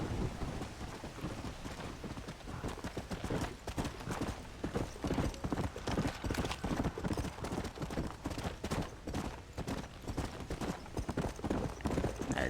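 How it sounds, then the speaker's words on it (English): Rapid, rhythmic hoofbeats of a galloping horse in the video game Red Dead Redemption pound steadily, with rain and distant rumbling underneath. "It's another zombie horse, I guess."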